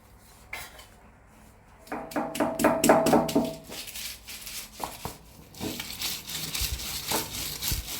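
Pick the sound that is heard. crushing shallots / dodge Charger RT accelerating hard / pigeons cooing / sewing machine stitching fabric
crushing shallots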